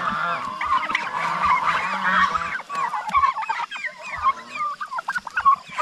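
Geese honking loudly and close, a dense flock calling over one another on a rural farm alongside turkeys, with irregular overlapping honks continuing throughout and no talk.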